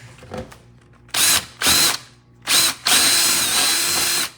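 A power drill with a step bit spins up in several short bursts, then runs in one longer steady grind as the bit cuts through metal yard art, close and loud.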